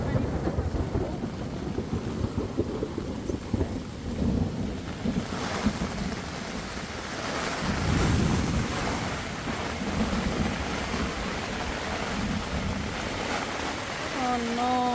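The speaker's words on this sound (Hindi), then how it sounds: "हमें पता था बारिश होने वाली" Heavy rain and thunder over a flooded campsite during a storm, a continuous loud roar of downpour and wind buffeting the microphone, with a low rumble swelling midway.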